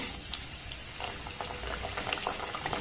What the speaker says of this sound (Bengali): যেগুলো পাখন পিঠার শেপ আমি দিয়েছি সেগুলো তেলের মধ্যে দিয়ে ভেজে নেব